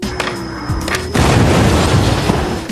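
A homemade bomb packed in a canister and stuffed into a pipe goes off, giving a sudden loud, heavy boom that swells into a sustained roaring rumble, close and with no talking.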